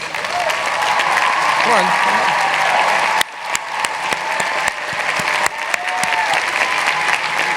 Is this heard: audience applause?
yes